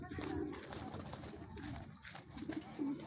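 Racing pigeons coo in low, soft bursts amid outdoor background noise, a few calls near the start and again toward the end.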